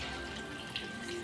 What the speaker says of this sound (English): we're gonna cover this with water